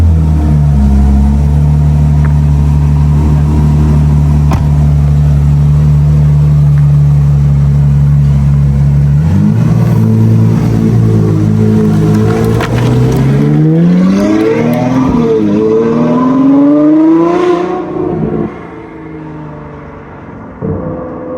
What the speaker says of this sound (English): the Ferrari A12 GTS with a full Novitec exhaust system